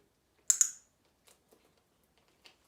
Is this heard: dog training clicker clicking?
yes